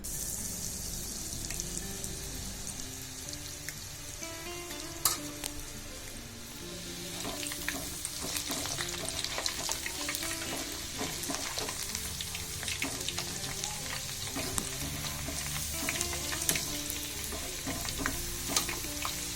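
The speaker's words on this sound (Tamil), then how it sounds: "எண்ணெய் நல்லா சூடானதும் இதை நான் வந்து பொரித்து எடுக்க போகிறேன்" Vegetable fries bubble and crackle as they deep-fry in hot wood-pressed oil, a continuous close sizzle with scattered sharp pops and occasional clinks of a utensil in the pan.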